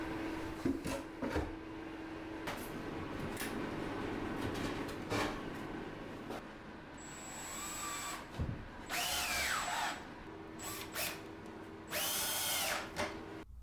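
A power drill drives screws to fix shelf brackets onto a rustic pallet wood bar, with several short whirring bursts of the motor separated by pauses amid quieter workshop handling noise.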